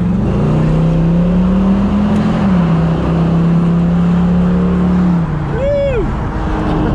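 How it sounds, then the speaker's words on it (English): 1969 Chevrolet Camaro with a newly fitted upgraded exhaust accelerating through a tunnel, a loud steady engine drone echoing off the walls before easing off, followed by a brief whoop from a passenger. "there's a nice little tunnel noise for you with the exhaust that he just put on yesterday"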